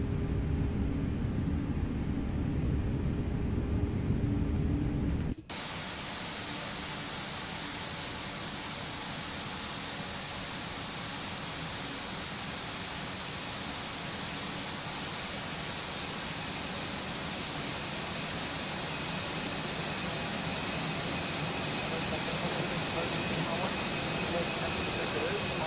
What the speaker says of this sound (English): Wow, those engine sounds are so nice.